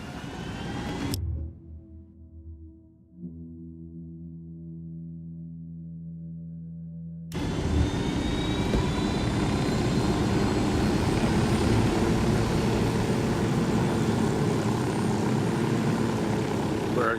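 An aircraft engine in the video game Ghost Recon Wildlands is heard as the player takes the controls. A low hum cuts in after a second, and a loud, steady propeller-like roar takes over about seven seconds in and keeps going.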